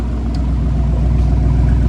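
Spec Iron Mustang race car engine running steadily at a low idle after a bad-fuel problem, a continuous close, even rumble throughout.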